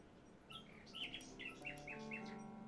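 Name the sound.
nightingale singing in the video game King's Quest 6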